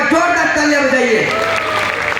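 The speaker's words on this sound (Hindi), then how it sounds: "उन 2 जैन भाइयों के लिए एक बार जोरदार तालियां बजाइए।" A large audience claps loudly at a Hindi-language public gathering. The dense, steady applause fills the whole stretch while a voice speaks over it.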